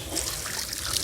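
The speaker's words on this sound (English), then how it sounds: "you hear that? That is water, my friends." Water trickles out of a leak aboard a sailboat as a soft, steady, faint gurgle with no voices over it.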